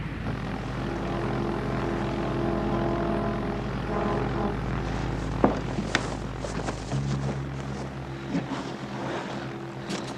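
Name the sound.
airplane engine warming up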